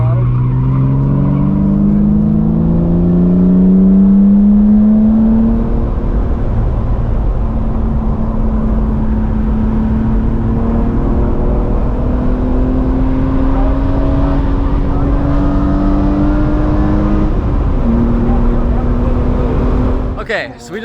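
A high-mileage BMW M3 E46 with 250,000 miles is driven hard on a race track, its engine rising and falling in loud sustained pitch sweeps through gear changes, close and continuous.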